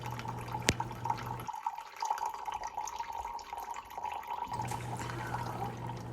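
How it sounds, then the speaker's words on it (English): Water trickles and drips in a small, close stream from a model water tower into a model engine, against a steady background hum, with no talking. "this neat little working water tower that actually will pour water into your engines"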